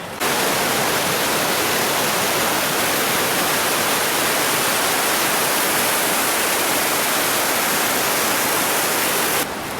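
Irpu waterfall in Coorg, Kodagu, roars steadily and loudly as a dense, unbroken rush of falling water fills the whole stretch, with no voices over it.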